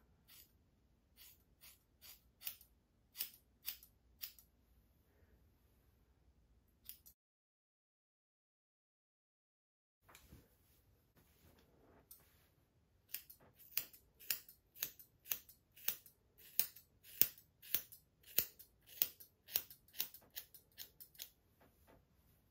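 Crisp scissor snips cutting hair into a bob, first a few scattered cuts, then a steady rapid run of close snipping after a short pause.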